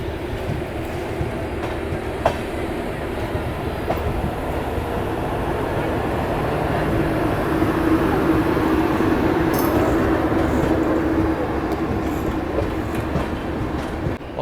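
A train pulls out of Ambala Cantt junction, its steady rumble and rail noise carrying throughout at close range, with faint clicks over the running sound.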